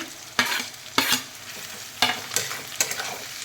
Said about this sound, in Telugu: కూర ఒక రెండు నిమిషాల పాటు కలుపుతూ వేయించుకోవాలి